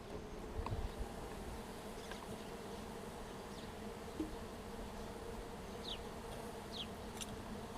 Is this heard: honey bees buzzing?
yes